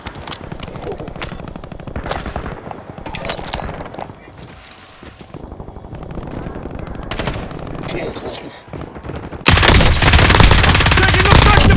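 Rapid automatic gunfire in a Call of Duty Warzone firefight, dense bursts of machine-gun shots with scattered single cracks, ending in a loud sustained roar of sustained firing.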